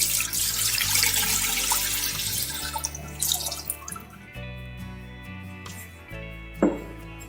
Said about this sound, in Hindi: मैंने जो 1 लीटर दूध लिया है उसको हम इसमें डालेंगे।